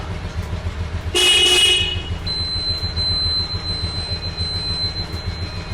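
A new horn on a restored 1996 vehicle sounds one loud, nearly one-second honk over a low engine idle, followed by a faint steady whine.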